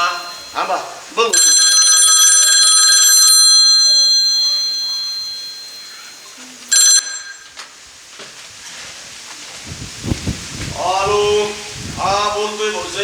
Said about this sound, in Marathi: आता कोणाचा फोन आला.